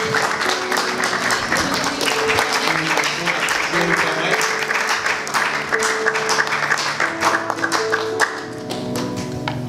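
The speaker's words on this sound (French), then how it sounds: "Sous vos acclamations." A church congregation applauding, with many hands clapping in a dense, lively burst over a steady musical backdrop, fairly close and continuing for several seconds before easing slightly at the end.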